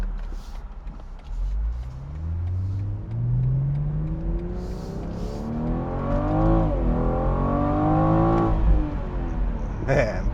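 A 2021 BMW M440i convertible accelerates hard, its engine note climbing through the gears in rising sweeps with a brief dip at a shift, loud and close from inside the car, with some wind noise around it.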